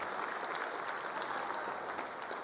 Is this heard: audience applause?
yes